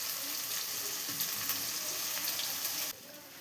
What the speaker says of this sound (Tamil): வெங்காயம் இஞ்சி பூண்டு நல்லா வதங்கிடுச்சுங்க